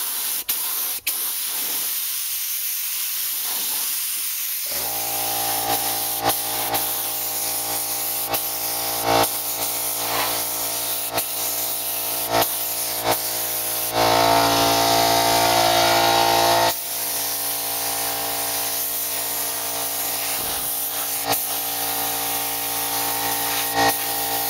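Spray gun laying a thin coat of gold acrylic enamel on a 1987 Yamaha VMAX part, a steady close hiss running through the whole stretch and swelling louder for a few seconds near the middle.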